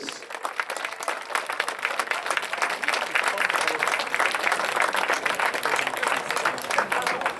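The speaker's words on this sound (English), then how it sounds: "let's have a nice round of applause for the Senior" Sustained, loud crowd applause at a high school football senior night pre-game ceremony, a thick wash of clapping and cheering from the stands that holds steady for several seconds.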